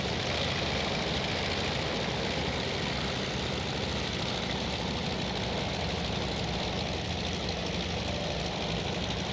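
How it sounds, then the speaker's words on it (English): A carrier aircraft's piston engine at reduced throttle in Task Force Admiral, a steady loud droning rumble with no change in pitch as it passes the carrier. "He reduces throttle and makes a starboard pass of the carrier."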